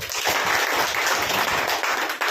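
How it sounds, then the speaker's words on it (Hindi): A seminar audience claps for themselves at the host's urging, a dense, steady wash of many hands filling the whole stretch, loud and close with no voices over it. "एक बार तालियां बजाओ अपने लिए"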